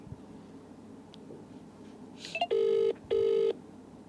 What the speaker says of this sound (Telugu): హాస్ని గారికి కాల్ చేసి ప్రాంక్ చేయబోతున్నా.